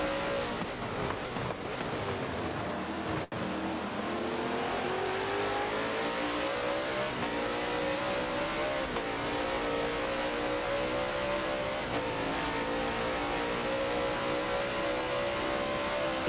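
Race car engines in the Gran Turismo game rev continuously at high pitch, rising and falling through gear changes for the whole stretch, loud and steady with a brief dropout near the start and no talking.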